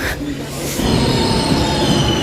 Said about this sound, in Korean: 네, 저희가 탈 열차가 왔습니다.